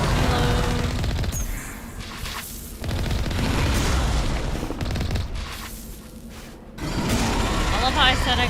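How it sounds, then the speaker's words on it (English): Rocket explosions in the Mass Effect Legendary game, deep booms and rapid gunfire-like bursts that come in loud waves with short lulls between them, with someone talking over the action. "That is the rockets."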